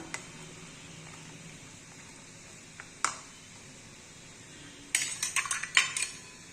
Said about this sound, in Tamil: இதை நல்லா மிக்ஸ் பண்ணிக்கலாம்